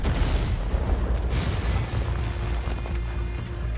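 A heavy, rumbling Lorraine 40 t tank cannon blast in a video game, with a long booming tail that fills the whole clip, loud and close, with no voices.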